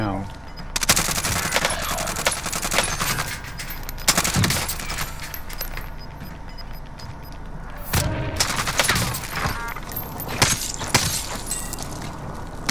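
Rapid automatic gunfire in the video game Warzone, dense bursts and sharp shots running almost the whole time, loud and close, with players talking over it.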